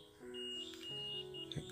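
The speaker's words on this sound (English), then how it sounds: "Here you can hear the buzzer sound in AVDD voltage section." A multimeter's continuity buzzer sounds a steady, high electronic beep while probing a shorted AVDD voltage section in a Samsung 40-inch LED TV, short to ground.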